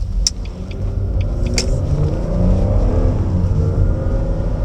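Jaguar X-Type 2.5 V6 four-wheel-drive estate accelerating hard out of a sharp turn, a loud sustained engine drone rising steadily under road rumble, heard from inside the cabin with a couple of faint clicks early on.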